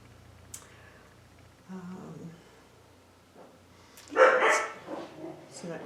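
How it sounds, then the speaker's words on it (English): Young puppies yip and bark in short, scattered bursts while playing after leaving their night pen indoors, with one louder flurry near the end, over low room noise. "My puppies have just come out of their nighttime pen and they're playing"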